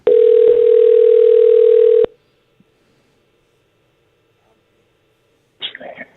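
A steady landline dial tone hums loud and unbroken for about two seconds, then cuts off to near silence before a brief burst of voices.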